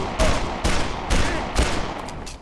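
Four loud shots at an even pace in the zombie video game Dead Island, each a sharp blast followed by a short decaying tail, with no talk over them.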